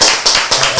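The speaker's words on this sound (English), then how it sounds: "Can I get a round of applause first, man?" A short burst of clapping, a few loud, close hand claps in quick succession from a small group.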